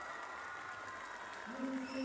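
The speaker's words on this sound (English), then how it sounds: "We are hearing a cheer from the audience, and obviously this is her home crowd" Home crowd at a World Cup uneven bars final in Koper cheering a gymnast, a steady broadband roar of applause and voices throughout, with a commentator talking over it.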